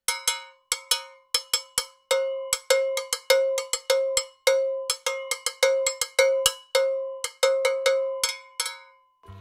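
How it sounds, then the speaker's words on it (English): An ELH bell struck with a smaller beater rings out in a steady series of sharp, bright metallic hits, each with a short decaying ring, close and loud with no talk. "with the smaller beater, you're getting more of a higher pitch, thin sound"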